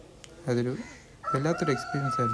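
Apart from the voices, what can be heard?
rooster crowing in the background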